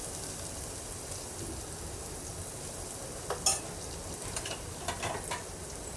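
Garlic and spices sauté in oil for a val bean curry, making a faint, continuous soft sizzle with a few sharper scraping clicks partway through.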